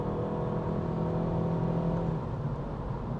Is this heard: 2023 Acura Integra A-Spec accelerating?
yes